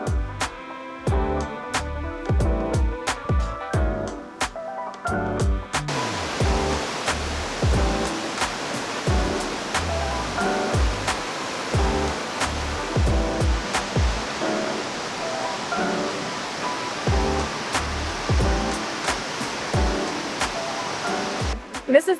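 Water flowing at Soda Dam in Valles Caldera, New Mexico, rushes steadily as a broad, continuous hiss, mixed with rhythmic, pulsing sounds throughout.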